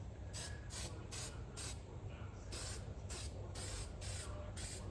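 Aerosol spray paint can coating steering column parts from a 1978 Corvette, a series of short and longer hissing bursts at close range, repeated with brief pauses between them.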